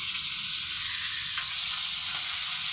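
Food frying in a hot pan, a steady, close, even sizzle with no breaks, heard alone.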